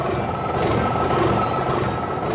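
An animated red truck at work, digging and loading dark soil into a white container, gives a loud, steady mechanical rumble with no break.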